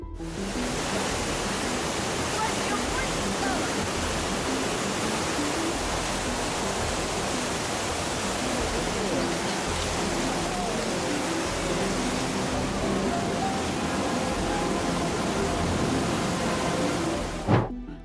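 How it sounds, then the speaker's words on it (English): Powerful rushing flash-flood water in western Nepal roars continuously in a dense, unbroken wash of noise with rumbling stones, close and loud, with no voices. "All sounds were drowned out by the roar of water and the rumble of stones."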